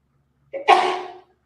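A single short sneeze, a quick intake followed by a sharp burst, close and clear against silence.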